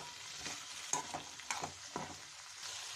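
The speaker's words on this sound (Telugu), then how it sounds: "ఇప్పుడు ఆలుగడ్డ ముక్కలను ఇందులో వేసుకున్నాం ఫ్రై చేసుకోవడానికి." Potato pieces frying in two tablespoons of oil in a pan, a steady close sizzle with a few sharper crackles and stirring scrapes.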